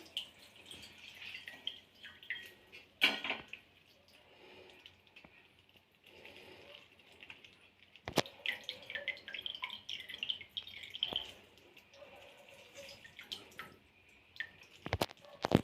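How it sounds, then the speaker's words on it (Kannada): Quiet trickling and dripping water from squeezed spinach, with intermittent splashes and a few sharp clicks, close by and uneven in rhythm. "ನೀರು ಹೋಗೋಂಗೆ ಲೈಟಾಗಿ"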